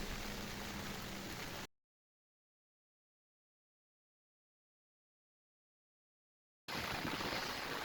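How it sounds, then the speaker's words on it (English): Light rain falls steadily on a saturated yard and sidewalk, giving a soft, even hiss. The sound breaks off into several seconds of silence partway through, then returns. "At this point, we've had a light rain for quite a while."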